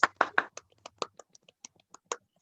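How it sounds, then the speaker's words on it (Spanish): Sparse hand claps ring out during a Rotary club virtual meeting, about a dozen close, dry claps that begin quickly and then slow and thin out into scattered single beats. "Por favor, aplausos virtuales."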